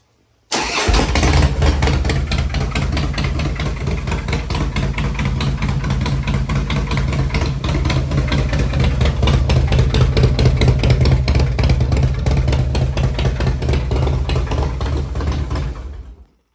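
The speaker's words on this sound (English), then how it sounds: "So it does have Vance and Hines pipes on it, but it's super loud. You guys got to hear this thing." A 2008 Harley-Davidson CVO Springer Softail 110 with Vance and Hines pipes fires up and idles close by, loud and steady with a deep rumbling throb for about fifteen seconds before cutting off.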